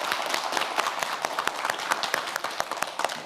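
Studio audience on a televised quiz show applauding for a contestant, a dense sustained patter of many hands clapping at close range.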